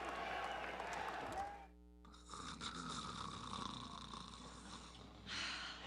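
A person snoring in a quiet room, a single rough, rasping inhalation followed by a pause and another snore, close and moderately loud.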